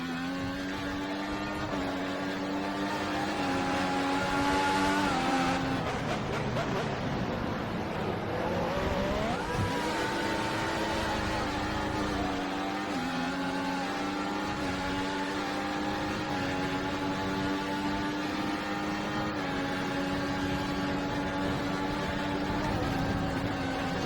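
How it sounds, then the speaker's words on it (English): Formula One cars at Belgium's Spa circuit in a racing game, including a McLaren, scream past with high, continuous engine whine and pitch sweeps, a loud Doppler pass around the middle, then steady droning engine tones. "The other McLaren of Jenson Button is coming"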